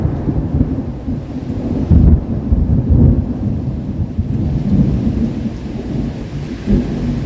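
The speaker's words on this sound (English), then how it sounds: "it is really starting to storm here now" Steady rain pours outdoors during a thunderstorm while low rolling thunder rumbles through it, swelling a few times over the continuous hiss of rainfall.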